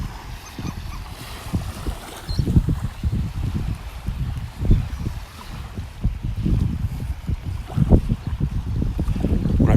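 Strong wind buffeting the microphone on a shoreline in North Naples, Florida, loud continuous gusty rumble with surging bursts and faint surf beneath, no talk.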